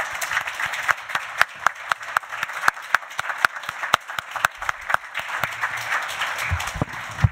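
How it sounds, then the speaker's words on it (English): An audience closing a town candidates night in Chelmsford applauds, with sharp, distinct claps standing out over a softer patter of hands in a hall, sparse enough that individual clappers can be heard. "Let's give a round of applause."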